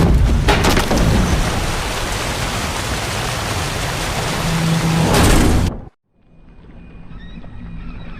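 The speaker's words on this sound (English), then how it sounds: "Didn't bargain for no storm." Heavy rain and rolling thunder from a storm at sea aboard a boat in The Witcher 3: Wild Hunt, a loud, dense, steady roar that cuts off abruptly near the end, leaving faint ambience.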